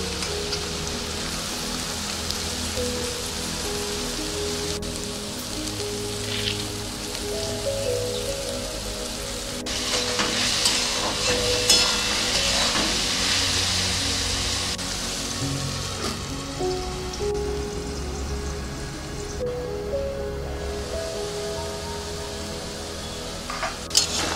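Capsicum is tossed into a pan of frying sago (sabu) in a home kitchen, giving a steady, close hissing sizzle with crackly spatter that swells now and then alongside light stirring, and no voices.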